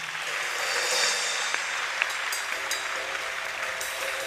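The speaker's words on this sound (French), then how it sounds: "Acclamez très fort le Seigneur." A church congregation applauds loudly in a steady, dense wash of clapping that holds for several seconds, with a few sharper individual claps standing out near the end.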